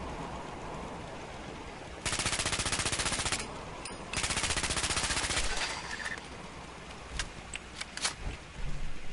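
An iron turret fires in Fallout 4 in sustained bursts of rapid automatic gunfire, loud and continuous for about two seconds at a time with a short gap between bursts, then trails into scattered single shots over game ambience.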